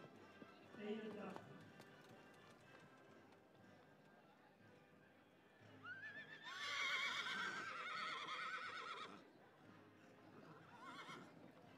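Young Frisian horses at a breeding day in the ring, a horse neighing loudly near the start and again in a long whinny midway, with hooves trotting and a voice speaking throughout.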